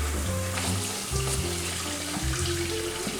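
Tap water running steadily into a kitchen sink to wash eggs while baking a red bird holiday cake, a continuous close splashing stream with faint clinks over it.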